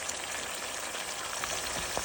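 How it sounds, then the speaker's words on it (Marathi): Amla simmering in oil in an iron kadhai, a continuous soft crackle and fizz of bubbling with small pops scattered through, steady and moderately quiet. "ते तसेच उकळत ठेवायचे तेलात"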